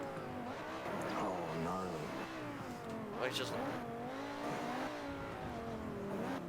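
A V10 race car engine revving toward 9,000 rpm gives a loud, steady high-pitched wail that rises and falls, with a brief voice speaking over it.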